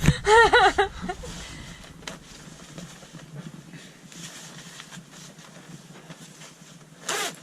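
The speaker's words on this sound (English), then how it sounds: "You cannot just put it on and zip it up or zip it off" Zipper of a layered sailing foul-weather jacket being unzipped, a quick loud zipping burst at the start, then soft fabric rustling and handling, and another short zip pull near the end.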